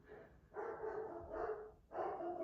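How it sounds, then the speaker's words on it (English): Muffled barking from a dog in short bursts, three or four, somewhat distant and fairly faint. "So I'm sorry about my dogs barking."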